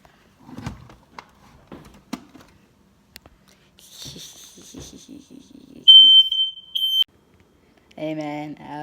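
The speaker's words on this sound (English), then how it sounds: "Time to pull the fire alarm." Smoke or fire alarm in a building sounds a loud, piercing steady tone for about a second, then a harsher buzzing alarm follows, with quiet speech and shuffling noises before it.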